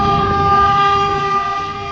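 A train horn holds a steady, loud, sustained tone with harmonic layers for the whole stretch, close and alone with no talking.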